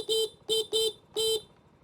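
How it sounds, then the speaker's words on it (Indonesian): Horn of a Vespa Sprint 180 scooter sounds four short, bright beeps in an uneven rhythm, the last held slightly longer, loud and close with no other sound. "Kalau kalian penasaran suara klaksonnya kayak gimana?"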